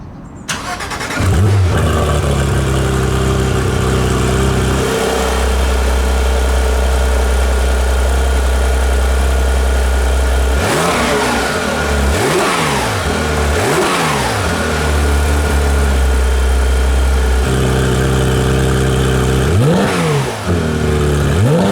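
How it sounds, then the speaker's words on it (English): A 2018 Porsche 911 GT3 RS (991.2) valve-controlled exhaust idles with a deep steady rumble, then barks through several sharp revs that rise and fall, loud and close. "Below is the valve-controlled exhaust. Let's see how it sounds, first with the valve closed and then open."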